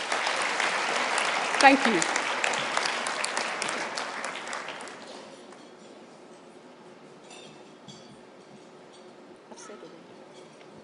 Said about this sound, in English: Give the students a last round of applause,